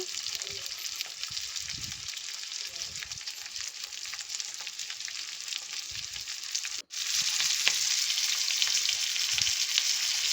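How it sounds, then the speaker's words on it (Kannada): Tomato and poppy seeds fry in a pan for ridge gourd sambar, giving a loud, steady, close sizzle that runs throughout, broken only by a momentary dropout near the end. "ಹಾಗೆ ಒಂದು ಟೊಮೊಟೊ ಕೂಡ ಹಾಕಿ ನಾನು ಫ್ರೈ ಮಾಡ್ತಾ ಇದ್ದೀನಿ"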